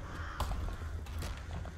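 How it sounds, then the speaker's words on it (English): Crows cawing from a flock of birds in the video game Death Stranding, a few faint harsh caws over a low ambient rumble. "That's a lot of birds as well."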